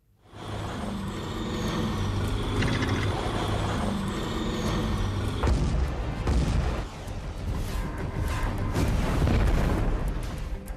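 Arjun battle tank firing a laser-guided missile on an open battlefield, heavy booming blasts and rumbling mechanical noise sustained and loud throughout, with several sharp impacts standing out in the second half.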